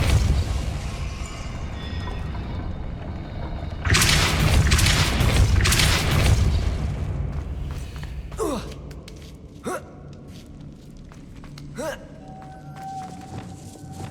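The Depulso spell is cast in Hogwarts Legacy, bringing a heavy rumbling whoosh of force, followed by several sharp swishing magical zaps and thuds that fade into quieter ambience.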